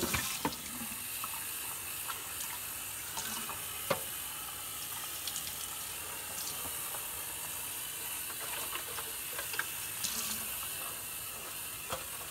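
Water runs steadily while the reservoir of a Keurig K-Elite coffee maker is rinsed in a sink, a constant splashing hiss broken by occasional plastic clunks and knocks as the tank is handled, close by with no talk.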